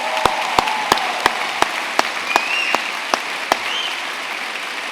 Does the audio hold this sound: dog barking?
no